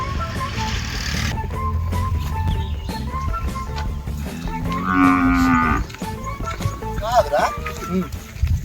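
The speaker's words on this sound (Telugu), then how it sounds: "ఇక్కడ ఆవులు మాత్రమే ఉన్నట్టున్నాయి" People talk amid outdoor background noise while a cow lets out a drawn-out moo partway through; another brief animal call follows.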